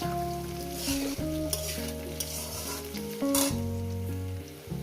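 Vegetables fry in a pan for a mixed-vegetable dal, giving a continuous sizzle with stirring. Steady tonal music plays over it throughout.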